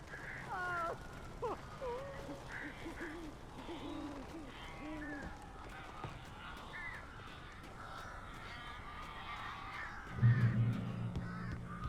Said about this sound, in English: These birds are scary.